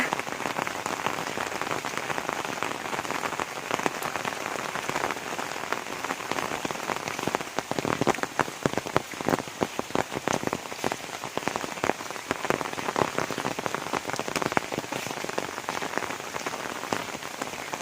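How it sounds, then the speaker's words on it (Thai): Steady, dense rain pattering on a surface, a constant hiss with scattered louder drops, no voices. "ฝนก็ตกนะคะ"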